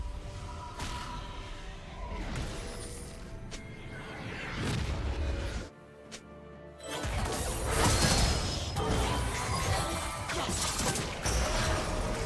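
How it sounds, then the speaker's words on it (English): Booming crashes and whooshing impacts mark a turret being destroyed in League of Legends, several loud blasts in succession, one brief lull, then dense rumbling collapse. "Blue team's turret has been destroyed."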